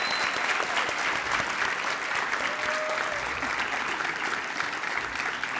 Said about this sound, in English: I want us to do one final huge round of applause for Garden City's newest Bronc Buster